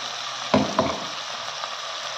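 Ground masala paste sautéing in a pan for misal, a steady soft sizzle with a couple of brief stirring scrapes near the start, alone and close.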